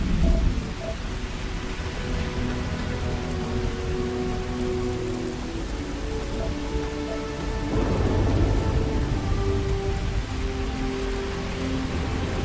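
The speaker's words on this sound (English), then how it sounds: "Does it always rain here?" Steady rain pours in the video game Starfield, with low rolling thunder rumbling underneath and swelling midway, a dense continuous wash of drops with no talking.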